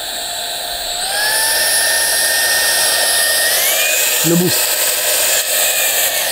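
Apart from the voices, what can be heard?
Rowenta cordless stick vacuum cleaner running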